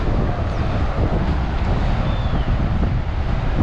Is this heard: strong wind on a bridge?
yes